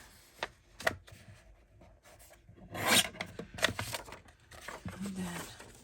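Paper being cut with scissors for a Halloween craft, close snips and rasping rubs with crinkling handling between cuts, a few louder bursts in the middle.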